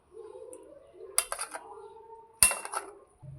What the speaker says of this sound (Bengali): এইভাবে একটা চামচের দ্বারা সব উপকরণগুলো আস্তে আস্তে আমি মিশিয়ে নেব।